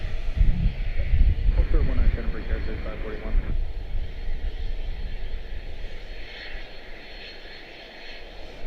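A Delta airliner arriving from Detroit at Washington Dulles drones with a loud engine rumble that swells early and then fades gradually, while people talk over it near the start.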